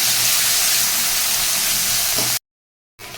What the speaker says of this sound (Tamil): இப்போ இதை நல்லா நம்ம வதக்கிக்கலாம். நல்லா செவந்து வரட்டும்.